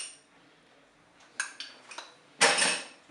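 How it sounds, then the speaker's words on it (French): A spoon stirs mustard into béchamel sauce in a metal cooking pot, with light clinks and scrapes followed by a louder clattering stir, all close and without speech. "Je mélange également."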